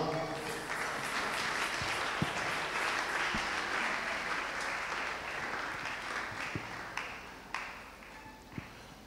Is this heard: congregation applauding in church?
yes